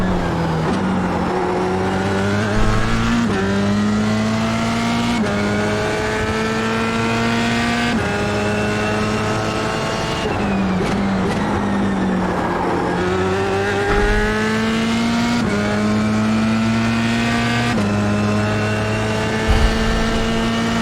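A Formula 3 race car laps Sebring in the iRacing simulator, its engine whining loudly and steadily as it climbs in pitch through repeated upshifts, then drops on downshifts with a few brief tire squeals.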